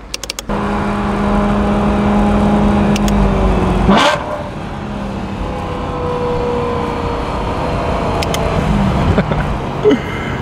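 A BMW E92 M3 with a DCT gearbox drives with a loud, close engine drone that climbs, then drops sharply at a quick downshift blip before settling into a steady cruise again.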